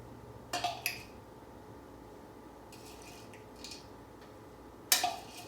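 A tablespoon spooning chopped pecans over the tops of pecan pies, giving a pair of quick metallic clinks, a faint tap, then one more sharp clink amid quiet, with no talking.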